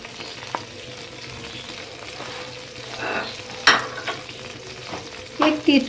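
Cumin powder and ajwain sizzle in two tablespoons of hot oil in a pan, with a soft steady frying hiss. A few sharper clinks and scrapes of stirring stand out near the end.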